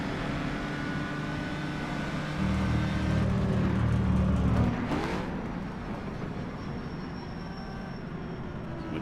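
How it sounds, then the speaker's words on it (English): Historic race car at the Longford two-hour event, its engine droning steadily, then a louder burst of aggressive throttle blips for a tight corner before the revs settle back to a sustained, slightly distant hum. "aggressive throttle blipping for the tight corner"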